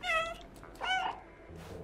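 Cat in the Stray video game gives two clear meows, one at the start and another about a second later, close and fairly loud with quiet background between them.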